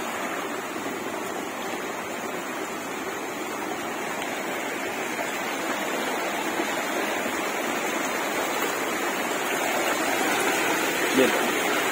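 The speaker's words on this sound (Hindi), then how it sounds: "तो ये पानी सब बह रहा था" Water rushing steadily in a small stream near little waterfalls where fish are being caught the traditional way, a continuous close hiss that grows slightly louder toward the end, with people talking faintly over it.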